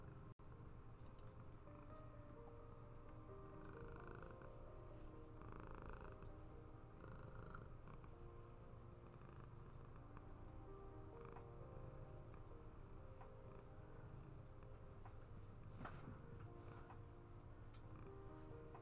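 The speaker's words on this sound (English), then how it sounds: "Can you hear her purrs?" A steady, low cat purr runs throughout, soft and continuous, with faint clicks and small rustles scattered over it.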